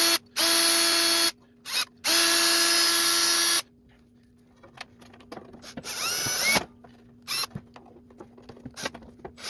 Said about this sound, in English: let's drill these out a little bit bigger